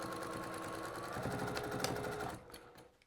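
A sewing machine stitches a seam in minky fabric for a weighted blanket, a close, steady mechanical whirr of rapid needle strokes that slows and stops near the end.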